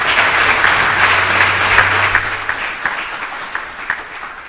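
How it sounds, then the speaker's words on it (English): Sustained applause from a crowd of Tanzanian leaders and business people at a South African business forum during a state visit, dense clapping filling the whole stretch and thinning slightly toward the end. "Let us as South Africans give them a good round of applause."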